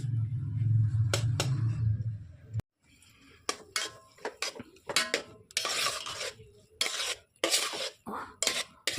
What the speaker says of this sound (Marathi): आता हलवून घेऊया चांगला.